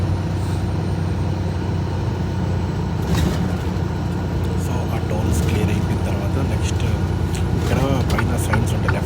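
Heavy, jammed highway traffic is heard from a truck cab on a California to Toronto run: a continuous low engine and road rumble, with someone talking over it.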